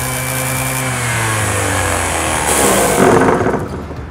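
A faulty orbital sander drones loudly and unevenly, with a rough, rattling buzz that shifts in pitch as it runs, up close with no talking.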